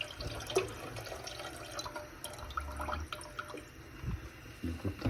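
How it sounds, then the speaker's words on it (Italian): Leftover water from provola cheese is poured into a pan, making a soft, close splashing and trickling sound for a few seconds, with no one speaking. "Ora possiamo già inserire tutta l'acqua della provola che è restante."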